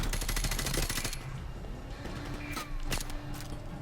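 Rapid automatic gunfire in Call of Duty Modern Warfare Remastered rattles loudly for about a second, then scattered single shots and blasts follow under a steady background rumble.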